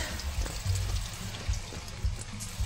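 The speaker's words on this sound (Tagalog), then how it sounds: "Tapos ito na yung shower" Shower water runs at a campsite beside a blue lake, a soft, continuous splashing and trickling with small irregular spatters, fairly quiet and close, with no voices.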